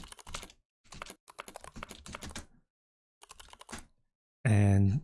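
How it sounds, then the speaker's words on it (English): Rapid keystrokes on a computer keyboard while entering words into a Forth programming environment, arriving in short bursts broken by pauses, with a louder, harsher clatter of keys at the very end. "So if we type in words"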